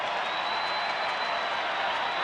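A large baseball crowd at Globe Life Park roars and applauds steadily during an Angels–Rangers game, a dense, continuous wash of cheering with no clear breaks.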